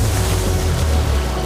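Water pours out of a tube in a steady, dense, rushing wash that holds at a constant loudness, with a low rumble underneath.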